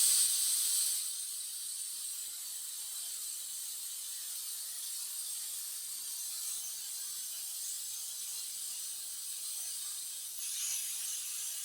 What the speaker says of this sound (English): now I'm going to open the valve and we should see fluid being extracted